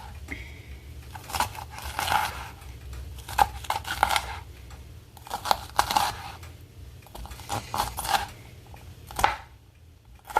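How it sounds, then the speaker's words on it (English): A kitchen knife chops okra and cabbage on a board in irregular, close taps and crunchy cuts, coming in small clusters with brief pauses, over a faint background hum. "I kind of bring them together and cut it up."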